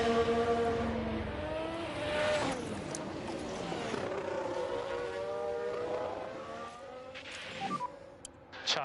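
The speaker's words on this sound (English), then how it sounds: "so soul destroying to see us struggling to stay with Schumacher in an Alfa Romeo" Race cars in the F1 Manager 23 video game whine past with rising and falling engine pitches, several cars overlapping in sweeping Doppler-like passes and a high chirp near the end, moderately quiet throughout.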